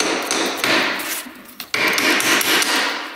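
A hammer pounds repeatedly on a stuck part of a Yamaha YFZ 450 ATV, giving loud, dense metallic blows in quick succession with one brief pause, no talking.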